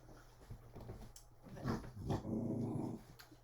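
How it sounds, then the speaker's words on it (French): A dog growls low and rumbling at close range, in a few drawn-out grumbles that swell and fade, with no talking. "tu fais pas grongon à la petite fille."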